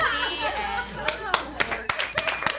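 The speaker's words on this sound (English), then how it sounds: "Big round of applause." At a live podcast recording, scattered hand claps from the audience grow from a few sharp individual claps into a loose patter, with voices speaking and chatter underneath.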